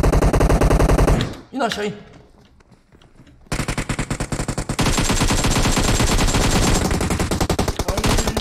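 Machine gun fire in the video game PUBG, loud rapid automatic bursts that pause for a quiet gap with a brief spoken line, then resume in long sustained strings of shots.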